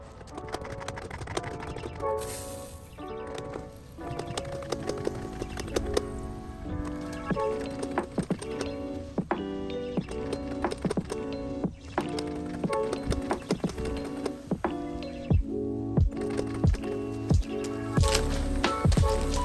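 A pump sprayer being pumped up to flush it with water while a deck is prepped for pressure washing and staining; steady, rhythmic squeaking strokes repeat close by over a constant background, with no talking.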